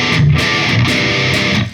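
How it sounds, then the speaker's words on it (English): Electric guitar played through a basic distortion tone, loud and close, a few overdriven notes ringing out with sustained crunch before cutting off. "I'm using just a basic distortion tone right now."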